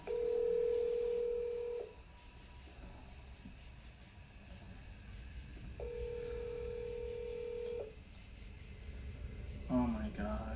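Telephone tones from a phone used while camping: two long steady beeps separated by a few seconds of quiet hiss, followed by a short burst of higher tones near the end.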